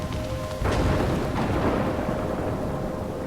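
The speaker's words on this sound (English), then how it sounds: "I'm trapped in a storm?" Thunderstorm in the video game Life Is Strange: a steady roar of rain and rumbling thunder that swells suddenly after a short, quieter start and holds loud and continuous, with no voices.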